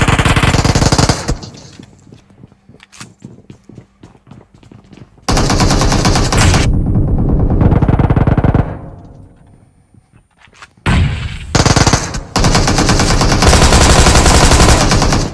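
Automatic gunfire in PUBG Mobile, loud and close, in long sustained bursts broken by short pauses and a quieter stretch of sparse single shots.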